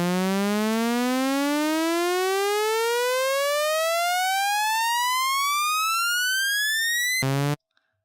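A synthesized trap riser glides smoothly upward in pitch over about seven seconds, rich in harmonics and loud, then stops abruptly after a brief held burst.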